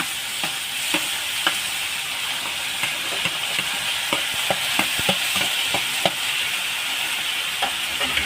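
Tomatoes fry in a pan for egg curry with a steady, close sizzle, broken by repeated scraping clicks of a spoon stirring through the sauce; no one speaks.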